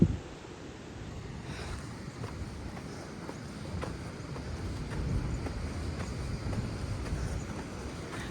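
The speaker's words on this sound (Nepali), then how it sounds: "ओहो, वेभ्सको आवाज." Ocean waves wash against the rocks at Eagle Rock on the Royal National Park coastal walk in a continuous broad roar of surf, mixed with wind buffeting the microphone and no talking.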